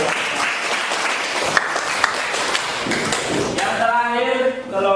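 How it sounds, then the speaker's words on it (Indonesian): Classroom audience clapping after a group presentation in a teaching practicum session, a steady patter of hands with a few sharp taps, voices coming in near the end. "Ya, berikan tepuk tangan."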